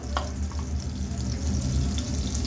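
Butter melting in hot oil in a pan over low, simmering heat gives a steady, soft sizzle with gentle bubbling that stays even throughout, with no talking.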